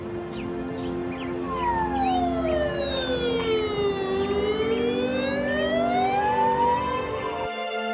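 Wailing emergency siren from an ambulance, one long slow tone sweeping down and back up over a steady background rumble, loud and close before cutting off abruptly at the end.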